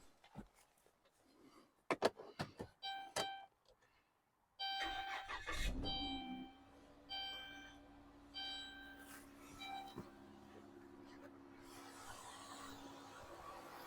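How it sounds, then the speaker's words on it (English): A car cranked and brought to life with a small DBPower jump starter: a few clicks and knocks, then the starter turns briefly before the engine catches and settles into a steady low idle, with chimes sounding over it. "Even the smaller unit jump started the vehicle without any issues."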